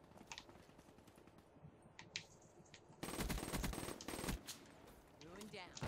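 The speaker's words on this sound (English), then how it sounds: "I hear a suppressed sniper." Gunfire in Call of Duty Black Ops, heard as a quick burst of clicky shots in rapid succession. A louder, denser stretch of firing and game noise follows partway through.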